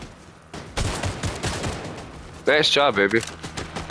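A rapid burst of video game gunfire fills the first seconds in quick repeated shots, then a person speaks briefly over continuing noise.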